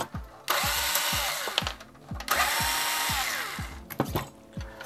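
A power driver buzzes in short bursts backing screws out of a TurboGrafx 16 console housing, with rhythmic ratcheting clicks and whirring runs, close up and with no voices.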